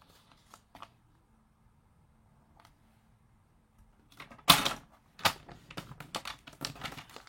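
Paper is creased and folded for a handmade mini album, with a few faint rustles early on and then a louder run of crisp crinkles and taps at close range.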